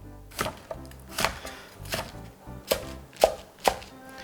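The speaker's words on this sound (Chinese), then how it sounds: "这个梗呢比较厚，我们稍微中间给它切一刀" A knife chops napa cabbage stalks into strips on a cutting board, about seven crisp, evenly spaced thwacks, close and clear with no talk.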